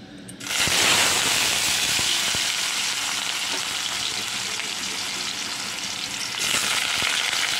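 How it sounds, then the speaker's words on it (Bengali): Vegetables hit hot oil in a wok with a sudden loud sizzle that holds as a dense, close crackling hiss, with scattered pops and a brief swell near the end. "এবার এই তেলে আমি সবজিগুলো দিয়ে দিচ্ছি।"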